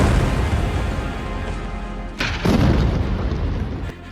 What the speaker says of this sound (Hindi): बेरूत में ये धमाका तब हुआ